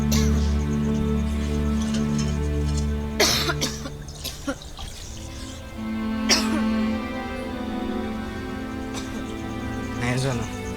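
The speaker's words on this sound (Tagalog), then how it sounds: "Halos mag-iisang linggo na po yung ubo niyo ah." A person who has had a cough for about a week coughs in three harsh bursts, spaced several seconds apart, against a steady tonal background with voices nearby.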